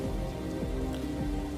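A steady patter of raindrops falls in a brief rain sound effect, with dense, even hiss and occasional distinct drops, continuous and fairly loud without any voices.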